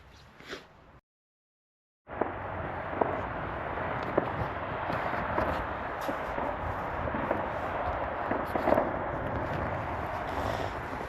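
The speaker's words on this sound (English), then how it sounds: "More fireworks." Fireworks pop far off in the night, a steady scatter of faint, muffled bangs and crackles spread across a low rumbling background, with no voices.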